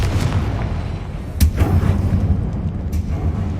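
A Confringo fire spell explodes in Hogwarts Legacy: a sharp, loud blast lands mid-way and a smaller pop follows later, both over a steady low rumble, with no talk.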